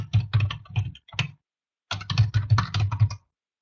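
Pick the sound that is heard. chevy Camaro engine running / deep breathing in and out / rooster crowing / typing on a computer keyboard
typing on a computer keyboard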